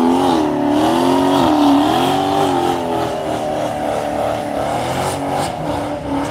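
Loud, continuous engine drone of performance cars at a team meet, with rising and falling revs as they drive and slide sideways, steady throughout with no voices.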